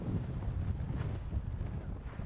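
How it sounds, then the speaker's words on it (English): Gusty wind buffets the microphone, a low blustery rumble rising and falling briefly. "Windy day today, isn't it?"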